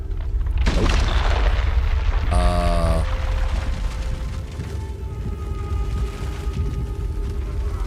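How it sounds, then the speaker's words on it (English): A giant explosion goes off in a video game during a fantasy battle: a heavy boom opens the clip, then a loud, steady rumbling roar carries on beneath a brief mechanical clatter, with no voices. "there was a giant explosion, and now things are dying."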